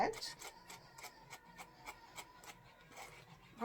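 Brush strokes rasp rhythmically through a Pomeranian dog's fur during grooming, a steady series of soft, close scratching sweeps at a regular pace, with brief voice sounds at the start and end.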